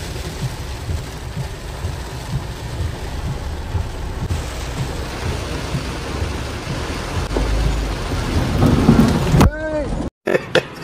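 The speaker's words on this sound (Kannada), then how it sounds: "Enjoy the rain sound." Heavy rain drums steadily on a car with its sunroof opening, with low rumbles mixed in and a loud burst of noise near the end before the sound cuts briefly.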